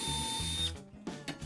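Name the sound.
drilling pilot holes with a self-centering drill bit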